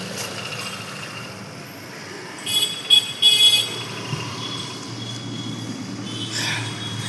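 Street traffic hums steadily at a busy road crossing in Dalhousie, Kolkata, with a cluster of short car horn toots rising above the rumble in the middle, then fading back into the general din.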